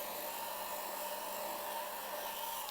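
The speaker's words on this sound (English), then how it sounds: "I just pass the heat gun very lightly" A heat gun blows hot air lightly over a Ducati Monster dashboard, producing a steady, even airy whoosh with a faint whine, close and continuous throughout without any talking.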